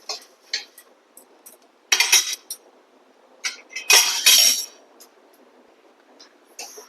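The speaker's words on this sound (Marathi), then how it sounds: "आळशी पटकन भाजल्या जाते" Flaxseeds are dry-roasted in a pan, rattling and scraping in a few short bursts as a utensil moves them around, close by, with quiet gaps between.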